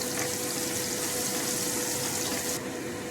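Cumin seeds, chopped green chili and garlic frying in hot oil for besan bhurji, a dense, steady close-up sizzle and crackle that continues without pause, easing slightly near the end.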